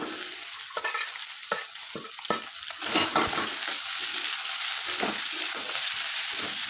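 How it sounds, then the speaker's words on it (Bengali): Mashed potatoes fry in a pan while being stirred, a steady close sizzle under repeated scraping strokes of a spoon or spatula that grow busier partway through, with no talking. "তো আলুটা একটু ভেজে ভেজে নেবো"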